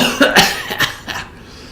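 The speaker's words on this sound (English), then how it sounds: "I hope I don't cough really loud on the stream." A loud, close cough in several harsh bursts, trailing off into quiet.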